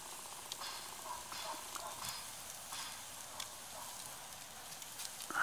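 Store-bought shashlik meat sizzles steadily in a frying pan, cooked without a grill, a faint continuous crackle with small spits and pops throughout.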